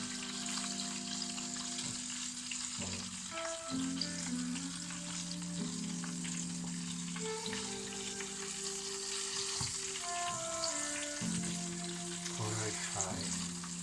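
Southern fried chicken pieces sizzle and crackle steadily in hot oil, a dense continuous frying hiss with bubbling running throughout at close range, no talking over it.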